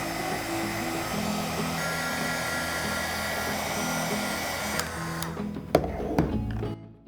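A heat gun or hair-dryer-style blower heats fabric glue on a plastic Easter egg, a steady loud airy whir running continuously for several seconds before cutting off with a few clicks and knocks near the end.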